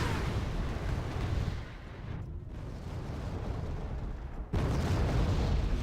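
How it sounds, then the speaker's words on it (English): Artillery pounds away in the video game Wargame Red Dragon, a dense, continuous rumble of booms and blasts that fills the whole clip, briefly dips, then surges back louder near the end. "Artillery pounding it onto Charlie."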